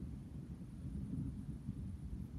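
Faint, distant thunder rolls on continuously as a low, steady grumble during a thunderstorm, with no voices over it.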